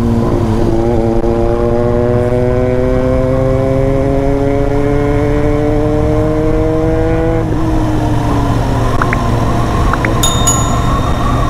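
Royal Enfield Interceptor 650 motorcycles ridden together on a scenic road, their steady loud engine drone rising slowly in pitch, then shifting as one drops back, with a couple of brief high blips near the end.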